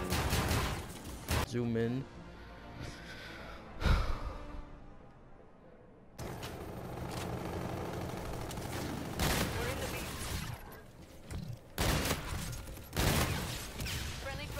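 Shotgun fire and other gunfire in the first-person shooter Infinite Warfare, loud booming blasts and rattling shots in bursts with game effects, mixed with excited talking.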